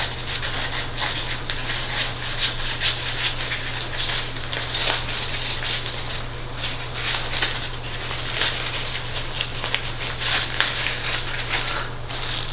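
A Tomshoo bathroom shower tent is unrolled by hand, giving a run of crinkly rustles and crackles from the fabric and its packing over a steady low hum.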